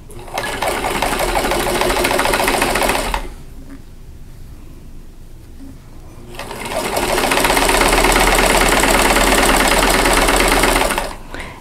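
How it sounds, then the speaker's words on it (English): A sewing machine stitches quilt half square triangles with a quarter-inch foot, a loud rapid mechanical chatter in two long runs separated by a quiet pause of about three seconds. "I'm going to go ahead and sew on both sides of that line"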